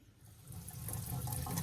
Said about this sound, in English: In Brazil, we wash the rice, so we just rinse it under cold water.